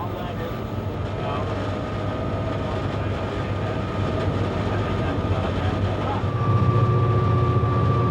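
The Algoma Central tour train rolls past Searchmont with a steady, loud rumble and rail clatter. A low hum rises near the end as the cars keep moving by.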